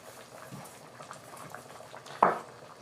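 Salted water boils in a pot on a kitchen stove, a soft steady bubbling hiss with one brief sharp clink near the end.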